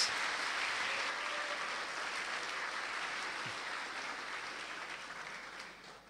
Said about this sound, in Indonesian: Tepuk tangan untuk Romo Manyis.